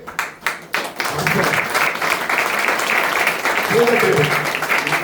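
A congregation at a Christian sermon breaks into sustained clapping after a few brief sounds at the start, a dense, steady patter of many hands with voices talking over it.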